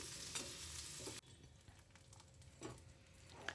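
Cauliflower frying in a pan for doi phulkopi, a quiet close sizzle with occasional stirring scrapes, louder in the first second then softer.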